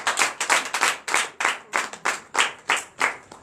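A church congregation claps together at a night deliverance and prophecy service, roughly a dozen sharp, evenly spaced claps in a steady rhythm, loud and close with no talking over them.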